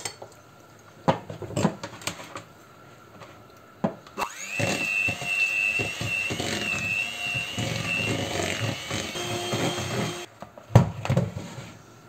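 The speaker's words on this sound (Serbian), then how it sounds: "sada možemo da umutimo puter" Electric mixer whipping butter for a London torte, starting after a few clicks and clatters and then running steadily with a high motor whine for about six seconds before stopping, followed by kitchen clatter.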